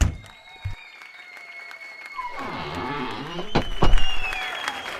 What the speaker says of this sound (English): When I got out, I heard cheering.